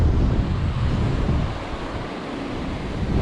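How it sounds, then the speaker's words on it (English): Water roars steadily over a large spillway in Texas, a broad, continuous rushing wash that stays loud throughout with a gentle dip midway and no voices. "Look at this spillway right here below me."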